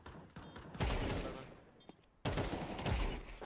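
Gunfire from a competitive shooter game played on FACEIT, arriving as two loud, sustained bursts of rapid shots separated by a brief lull, with no talking.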